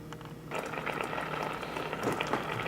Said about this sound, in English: we've got a good boil going on now